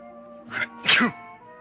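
A single sneeze from a man with a cold in an old-time radio drama, a short two-part burst with a sharp intake and explosive release, heard alone and close.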